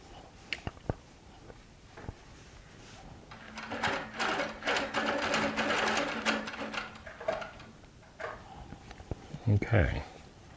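A Baby Lock sewing machine stitches back down to a seam line, running in a sustained whirring burst midway, with someone talking before, during and after and a few clicks at the start and end.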